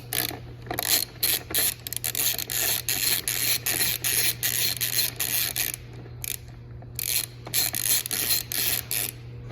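Rapid ratcheting clicks from an Allen wrench, a 4mm hex key, backing out long screws with washers from the tail panels of a 2019 or later Kawasaki Ninja ZX-6R, in close repeated bursts with brief pauses over a steady low hum.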